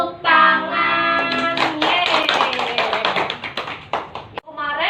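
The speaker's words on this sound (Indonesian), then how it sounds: "5 jari kanan, 5 jari kiri, digabung jadi 10, jadi tepuk tangan." A teacher's rhythmic clapping song for young children: quick, sharp hand claps in a steady pattern beneath a singing, chanting voice.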